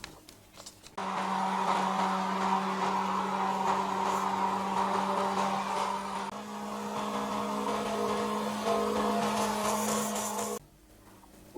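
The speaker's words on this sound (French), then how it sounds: "on va mixer le tout à l'aide d'un mixeur plongeant" An immersion blender whirs steadily for about ten seconds, blending fresh pears into a white chocolate ganache in a deep bowl, a loud motor hum that dips briefly midway as the load shifts, then cuts off abruptly.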